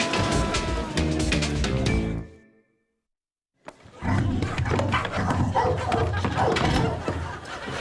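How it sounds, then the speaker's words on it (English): A dog barks and whimpers loudly and close by. The sound cuts out for about a second, then resumes amid dense, busy noise. "do you have Seagal's dog in there?"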